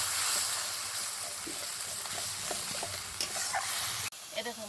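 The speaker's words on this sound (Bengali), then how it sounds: "এবার সব কিছুকে খুব ভালোভাবে কষাবো যতক্ষণ না পর্যন্ত তেল বেরিয়ে আসে।" A spice paste with salt and turmeric fries in oil with a constant hiss and sizzle while a spoon stirs it, scraping occasionally, then cuts off abruptly near the end.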